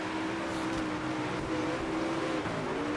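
A race car engine in the World of Outlaws 24 video game, heard as a steady, loud, close drone that holds a constant pitch for the whole stretch, with no one talking.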